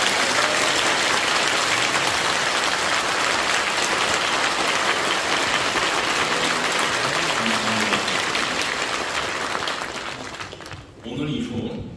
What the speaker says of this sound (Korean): 우리 한기총을 지키신 목사님들에게 우리가 깊은 감사의 박수를 치겠습니다